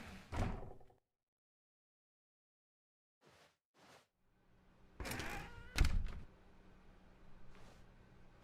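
A door in The Stanley Parable opens with a sharp thud, followed by a stretch of silence, a few soft bumps, then louder clunks and a slam before quiet room ambience settles.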